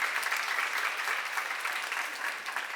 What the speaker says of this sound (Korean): 박수로 와주세요